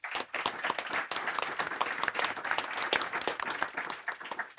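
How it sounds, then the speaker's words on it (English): Conference audience applauds a panel in Sweden, many hands clapping in a brisk, even patter from mid distance for the full length. "A round of applause."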